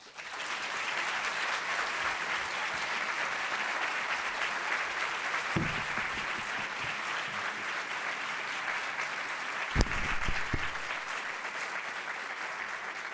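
Audience applause welcoming Secretary of Education Arne Duncan at the Harvard Graduate School of Education, a steady wash of clapping from a large crowd that holds evenly for the whole stretch.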